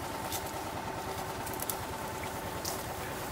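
A cart's engine runs steadily while riding up a back path behind a house in Peterborough, Ontario, a low, even rumble with a faint ticking texture and no talk.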